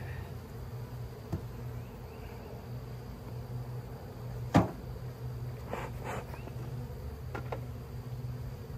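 Honey bees buzz faintly and steadily around an open beehive super outdoors, with a low continuous hum, a few brief sharper knocks and one louder close buzz about halfway through.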